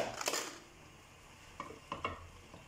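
Stirring pancit noodles in a small, crowded wok: a few soft scraping and clinking strokes of a utensil against the pan, close by over a faint background hiss, with pauses between strokes.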